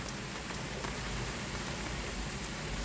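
Heavy downpour pours steadily onto streets flooding with water, a dense, unbroken hiss of rain with no voices, constant from start to finish.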